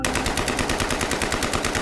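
AK-47 rifle on full automatic during the 26/11 terror attack at Mumbai's CST station: a continuous, rapid stream of loud, evenly spaced shots fills the whole stretch with no pause and no talking.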